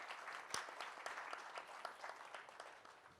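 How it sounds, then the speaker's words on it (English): Audience at an FMCG panel discussion of a 2023 conference applauds the moderator: quiet, scattered clapping with a few sharper individual claps, heard from a distance. "A round of applause for our moderator, please."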